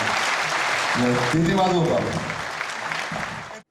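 Audience applause for the host at a choreographic ensemble's 15th anniversary gala evening, a dense sustained clapping that fills the clip and stops abruptly, with a voice speaking briefly over it.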